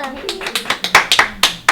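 Several people clap in an uneven patter of sharp hand claps, close by, with a faint voice briefly mixed in.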